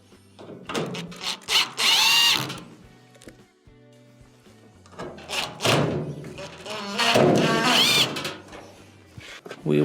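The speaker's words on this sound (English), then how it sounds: "Reinstall our two Phillips screws." A power drill drives Phillips screws into the front panel of a clothes dryer during a drum belt repair, with several short whirring bursts separated by pauses and handling knocks, a voice talking in between.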